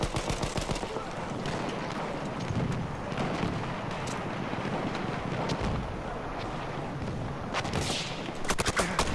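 Slug rifle gunfire in Battlefield 1, with repeated sharp shots and booming reports amid a dense, noisy battlefield din, with a cluster of loud bangs near the end.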